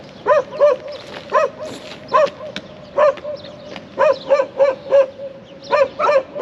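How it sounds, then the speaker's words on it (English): Dogs barking at a cemetery in Basra, Iraq, a run of about a dozen sharp, evenly spaced barks from one or more dogs at moderate distance over a steady background hum. "Dogs a problem? Dogs are wicked."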